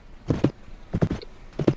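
A summoned horse clip-clops in Roblox Westbound, a Wild West game: three close pairs of clear hoofbeats land in an even trotting rhythm, near and fairly loud, with a faint jingle between them.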